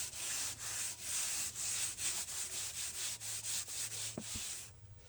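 Sanding paste rubbed onto a piece of turned hickory firewood on a lathe, a steady, close, continuous rasping hiss with rhythmic pulses from each pass, ending in a brief clack.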